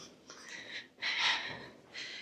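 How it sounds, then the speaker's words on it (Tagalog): Heavy, breathless panting from someone who has just climbed to the top of Berlin Cathedral: three loud, close, breathy bursts, the middle one strongest, with short pauses between and no talking. "So, maririnig nyo yung hingal ko."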